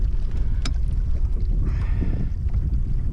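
A fishing boat's motor runs steadily on open water in early winter, a loud, constant low drone mixed with wind buffeting the microphone, plus a brief clank near the start.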